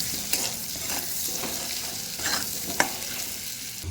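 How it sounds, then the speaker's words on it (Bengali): Potato, garlic and turmeric fry together in a pan with salt, making a continuous sizzle punctuated by regular spatula stirs and scrapes, close and without speech. "সব কিছু একসাথে একটু ভেজে নেব।"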